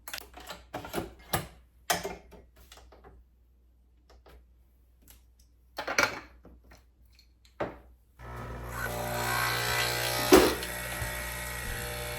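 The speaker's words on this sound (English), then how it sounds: "I just love this machine. This is an espresso Pixie." An Espresso Pixie capsule coffee machine in a home coffee corner, starting with scattered clicks and taps of handling, then running with a steady pump hum and buzz for the last few seconds, close and fairly loud.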